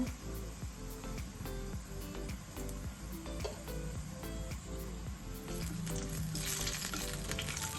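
Cumin seeds and bay leaves crackle and sizzle in hot oil in a pan, a steady close fry with rapid popping and occasional stirring scrapes.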